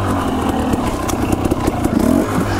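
Husqvarna dirt bike engine revving on an enduro trail ride near Loon Lake, Idaho, a loud close two-stroke-style buzz with rapid throttle blips and mechanical clatter, no speech.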